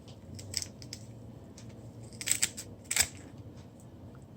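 Fresh thyme being cut for green seasoning: a handful of quick, crisp snips and chops, sparse and close, with the loudest cuts clustered near the end over a quiet background.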